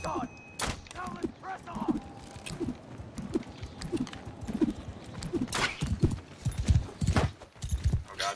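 Horse hooves galloping in Mount & Blade II: Bannerlord, a fast rhythmic run of clip-clop thuds that grows heavier toward the end, mixed with sharp combat impacts and game noise.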